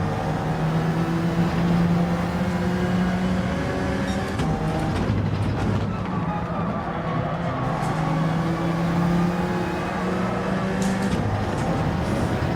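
Citroen race car engine in Gran Turismo 7, racing at Trial Mountain, drones steadily with harmonic tones rising and falling through gear changes, continuous and fairly loud throughout.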